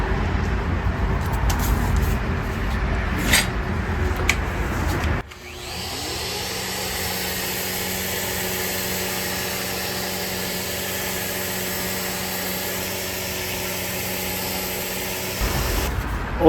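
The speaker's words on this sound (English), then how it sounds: "I'm in a sanding and cleaning process, so I sand it off" An antique level being sanded by hand with 150-grit sandpaper, a steady close, loud abrasive rasp that holds for about ten seconds after some rougher shifting strokes, then stops.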